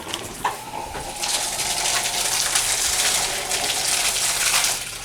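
Water gushes and sprays steadily from a flushed drip irrigation line on an underground sprinkler system after a brief click, a loud rushing hiss that holds for several seconds before easing off.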